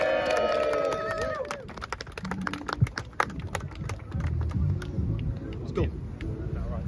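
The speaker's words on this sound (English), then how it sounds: "please cheer for our veteran" A crowd at an outdoor political rally against migrant hotels in Norwich cheers and claps for a veteran, a broad noisy swell with scattered claps and shouts, mixed with voices and a brief whistle-like tone at the start.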